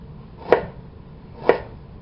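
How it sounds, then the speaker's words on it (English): Ginger sliced with a knife, two crisp separate cuts about a second apart landing on a board, close and clear against a quiet background. "Slice one side, so this way it's flat."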